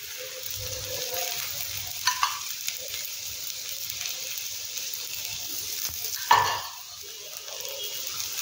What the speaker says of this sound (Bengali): এবার দু পিঠ এরকম লাল লাল করে ভেজে নিতে হবে